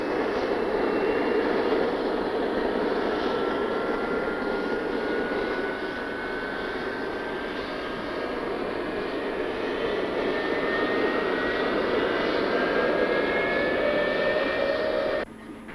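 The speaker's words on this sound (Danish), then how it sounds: "Så kom startordren, og flyene går på vingerne." Danish Lockheed F-104G Starfighter jets taking off on quick-reaction alert, a loud, continuous jet-engine roar with rising whining tones held steadily for about fifteen seconds before cutting off.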